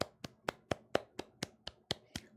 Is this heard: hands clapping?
yes